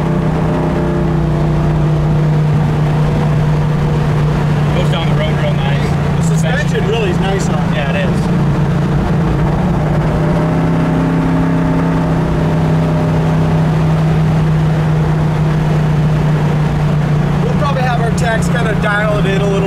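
A 1966 Ford Mustang Convertible cruising down the road, its engine a steady low drone with wind and road rumble throughout, while someone talks over it.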